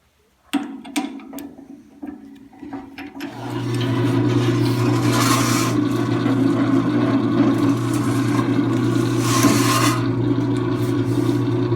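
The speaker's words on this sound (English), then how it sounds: "Now I think I'll deburr the holes. Let's get the sharp edge off." Deburring the sharp edges of freshly drilled holes for a tool holder: a few sharp clicks and taps, then a steady grinding rasp with a constant low hum that runs on for several seconds, close and fairly loud.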